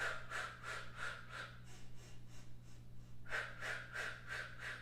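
Short, rhythmic puffs of breath pulse in quick succession during a Pilates mat exercise, staccato inhales and exhales close to the microphone over a low steady hum, easing briefly before resuming strongly.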